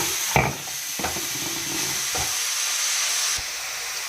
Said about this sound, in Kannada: ಎಣ್ಣೆಯಲ್ಲೇ ಫ್ರೈ ಆಗಲಿ ಅವಾಗವಾಗ ನೋಡಿ ನೋಡಿ ಕಲಿಸ್ತಾ ಇರಿ